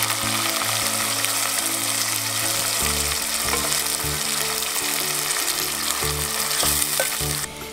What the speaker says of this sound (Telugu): ఇప్పుడు నూనె గరమైనాక సన్నగా కోసుకున్న ఉల్లిపాయ ముక్కలు వేసుకోవాలి